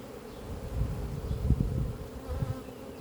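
Honey bees buzz steadily around an opened hive holding a swarm and plenty of brood, a close, continuous low drone with individual bees swelling louder as they pass near, no voices.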